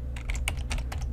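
Rapid clicking of computer keyboard keys, a steady burst of close, distinct keystrokes with no talk over them.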